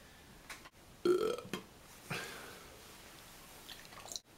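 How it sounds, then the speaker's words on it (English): A single loud burp in a hotel room, close and clear, with a short swallowing or mouth sound after it and quiet room tone around it. "This hotel room is now officially burped."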